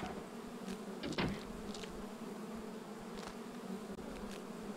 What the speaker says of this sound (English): Let the bees do their job.